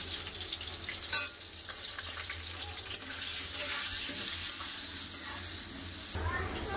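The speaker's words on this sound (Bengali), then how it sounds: "আলু ভালো করে ভাজা হয়ে গেছে" Potatoes fry in hot oil in a kadai with turmeric powder, giving a steady close sizzle with occasional stirring scrapes and clinks throughout.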